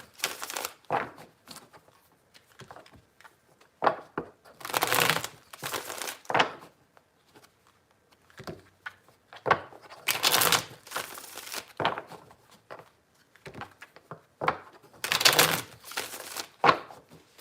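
Tarot cards are shuffled in repeated crisp bursts of riffling and sliding, three main rounds with small taps and rustles between, close and alone without speech.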